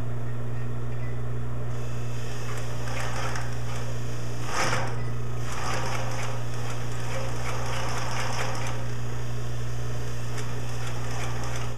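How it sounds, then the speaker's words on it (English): Industrial sewing machine with a clutch motor stitches slowly: a steady electrical motor hum underneath, with irregular soft mechanical clicks and a few louder clattering bursts, close by, no voices. "Considering this is my probably fourth time actually trying to sew on this thing, I feel very comfortable that I can control it when sewing slowly."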